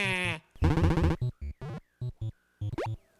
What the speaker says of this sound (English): I like the sheep sound effects.